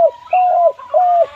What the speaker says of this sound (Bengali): তো শুনুন, পাখির ডাকটা কিন্তু অসাধারণ